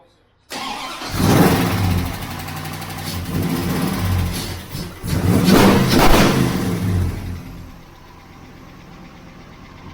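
A Chevy Stepside truck engine fires up and revs hard, with loud rising and falling surges, then drops back to a quieter idle toward the end.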